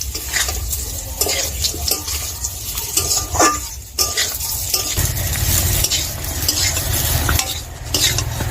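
Mango pieces are stirred in hot oil with five-spice seeds for a sweet-sour pickle, a spatula scraping the pan in repeated close strokes over a continuous sizzle.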